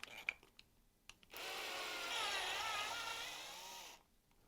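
A tap cutting threads into a 3D printed part makes a faint, close grinding rasp that runs steadily for about three seconds, with a few light clicks and knocks before it starts.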